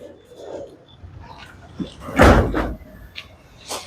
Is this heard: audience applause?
no